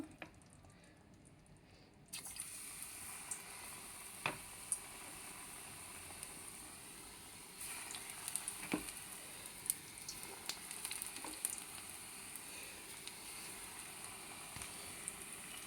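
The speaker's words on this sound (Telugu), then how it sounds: "చూడండి, ఇలా అన్నీ వేయించుకోవాలండి మనము" Pakodi fritters of besan batter frying in hot oil, a faint steady sizzle with scattered small pops and crackles, recorded at a distance without talk.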